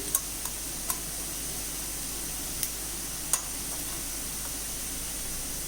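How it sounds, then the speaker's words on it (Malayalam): Onion sautéing in a pan with turmeric and chili powder for butter paneer masala, a steady faint sizzle with a few sharp ticks and clicks from stirring. "നമുക്കിതും കൂടെ ഈ പൊടിയെല്ലാം കൂടെ ഒന്ന് വഴറ്റിയെടുക്കാം"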